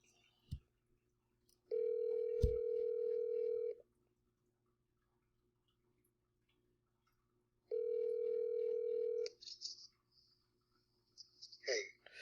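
A telephone dial tone sounds while a call is placed, a steady loud hum lasting about two seconds, then silence, then the same tone again, followed by brief clicks and a voice answering.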